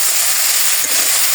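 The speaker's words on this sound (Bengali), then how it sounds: "একটু ভেজে নেব" Salt, turmeric and dried chili powder frying in a hot pan, a steady loud sizzling hiss close up with no other sounds.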